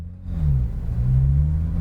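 Green Porsche GT3 RS engine accelerating on a speedway track, a low, steady rumbling drone that rises slightly in pitch and swells in loudness, heard alone.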